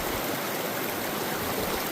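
Mountain creek water rushing steadily over rocks near a high pass, a close, continuous broadband wash with no pauses and no voices.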